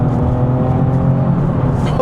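Nissan 370Z sports car engine blipping its revs for a matched downshift, a steady throaty drone with harmonic hum and a brief rise in pitch near the end, heard close from inside the cabin.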